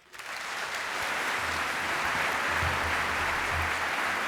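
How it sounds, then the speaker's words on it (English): Sustained applause from a large audience at a university reunion weekend event, welcoming Stanford's 10th president to the stage; dense steady clapping that swells in and holds at full strength, with no talking over it. "Please join me in a warm round of applause for Stanford's 10th president, John Hennessy."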